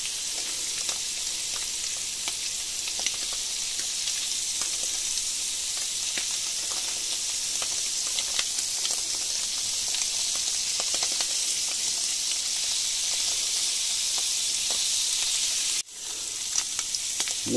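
Scallop skewers sear in a hot pan with a steady, close sizzle and crackle, fat spitting throughout for about sixteen seconds before the sound briefly cuts and resumes.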